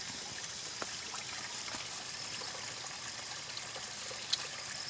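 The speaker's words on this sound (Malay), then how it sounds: "Nah, ini namanya air ya." Flowing water from a stream at a tourist spot in Aceh, a steady broadband rush and trickle that holds even through the whole stretch, with a faint click near the end and no voices.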